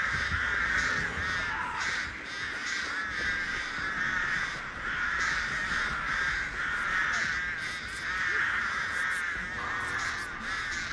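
Crows in the video game Dead by Daylight caw again and again in harsh, overlapping calls that keep up a steady chorus with no talking.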